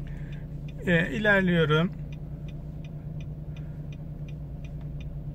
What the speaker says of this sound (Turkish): sol tarafa sinyalimi veriyorum